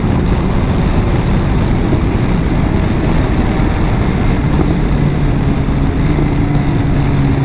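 A BMW S1000XR motorcycle engine drones steadily and loudly while the bike is ridden, with broadband rumble and wind over the whole stretch, no talking.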